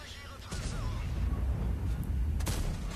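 A Leopard 1 tank fires in the World of Tanks video game, giving a fairly faint boom, then a second sharp report about two seconds later over low, continuous battle rumble.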